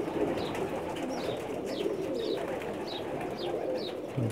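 A Pakistani pigeon coos softly and repeatedly in a steady rhythm, the calls rising above a dense, continuous background murmur.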